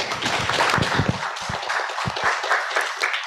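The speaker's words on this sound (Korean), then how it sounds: "뜨거운 박수로 청해 주시기 바랍니다" An audience at a basic income conference session on youth politics applauds a dense, fairly loud burst of clapping that thins out into scattered claps toward the end.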